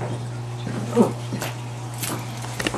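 A dog gives short, faint whimpers and soft yips over a steady low electrical hum, with a few brief higher cries spaced across the moment.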